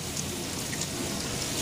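Steady rain falling on a very rainy day, a dense, even hiss of drops on surfaces, close and continuous with no voices.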